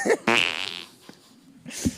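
A fart carries on loud and close, one sputtering drawn-out burst followed by softer pops and a last short squeak.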